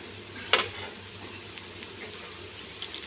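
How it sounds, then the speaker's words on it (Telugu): Cumin, urad dal, mustard seeds and dried chilli pieces fry in oil for a tempering, a faint continuous sizzle broken by a sharp crackle near the start and a few small pops. "ఒక 2 ఎండుమిర్చి ముక్కలు వేసి పెట్టుకున్నాను. ఇవన్నీ వేగనిద్దామండి."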